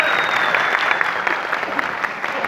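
An audience at a stage show in India claps steadily in a dense, continuous round of applause.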